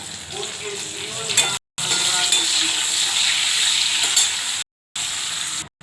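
Onion and capsicum sizzle in a hot pan for chilli chicken, a dense, close frying hiss with stirring scrapes, broken by two brief cuts to silence.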